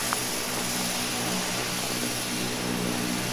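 Twin turboprop engines of an EMB-120 in a flight simulator hold a steady, loud, even drone with a constant tonal hum, running through the takeoff roll with no voices.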